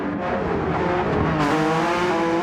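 GT3 Ferrari and Porsche race cars in a sim-racing game, engines roaring loud and steady at high revs, with a faint tire squeal, no talk.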